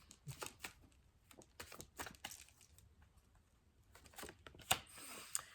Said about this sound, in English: I'm going to just put them back on the deck and shuffle more.